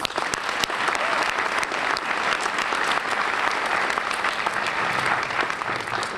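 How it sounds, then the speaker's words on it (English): A school assembly audience applauds sponsors, a continuous, fairly loud burst of many hands clapping with crisp individual claps standing out through the crowd noise. "Please join me in a round of applause for all of our sponsors."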